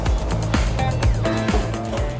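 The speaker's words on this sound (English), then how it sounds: "That's the sound of crispy food right there." Crispy roasted garbanzo beans shaken in a pan during roasting make a loud, continuous rattle of small hard pieces, with bursts of scraping and clattering as the pan is moved, and no voices.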